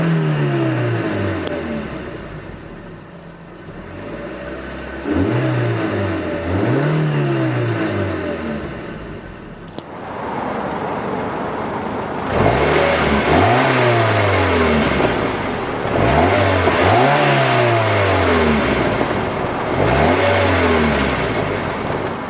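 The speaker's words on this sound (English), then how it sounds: "you can hear this engine really just loves to rev" A 2014 Mazda MX-5 Miata Club Edition engine revs again and again, each rise and fall in pitch repeating in a loud, close sequence with short pauses.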